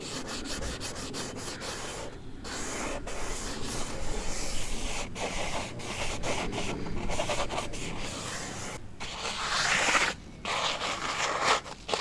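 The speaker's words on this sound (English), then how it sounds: "we're just going to slightly rub over the wheels to aggravate any possible rust" Abrasive sponge rubbing over a rusty van wheel, a steady scratchy scrubbing texture with short pauses between strokes, close up with no talking.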